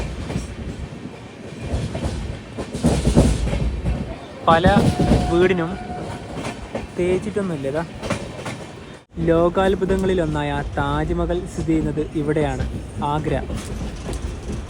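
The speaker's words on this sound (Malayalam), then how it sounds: "ട്രെയിൻ ഇപ്പോൾ ആഗ്രയിലേക്ക് എത്തുകയാണ്." The Himsagar Express rolls into Agra with a steady rumble and clickety-clack of wheels on rails throughout. Someone narrates over the train noise, and a brief dropout comes midway.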